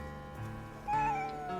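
A kitten gives one drawn-out meow partway through, rising over a low hum of background noise, with no talking.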